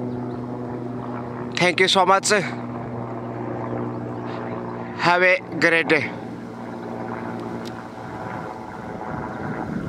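Several helicopters approach to land at an election rally site in Churu, their steady rotor and engine drone running throughout at moderate distance while people speak in short bursts over it.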